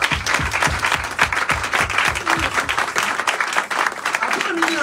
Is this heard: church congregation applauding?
yes